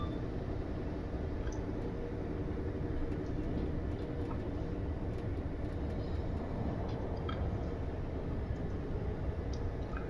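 A Class 802 Nova train runs in the Train Sim video game, giving a steady rumbling rail drone with faint clicks and rattles, unbroken and even in level, with no one talking.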